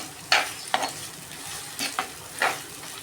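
Chopped onions fry in a pot for chicken curry, heard as quiet sizzling broken by several short, scraping stirs at an uneven pace.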